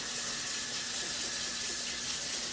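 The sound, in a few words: draining and rinsing cooked spaghetti noodles under tap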